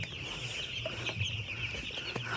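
Chickens cluck and murmur on a village poultry farm, a close, busy chorus of short calls over a constant background hiss, with no talking.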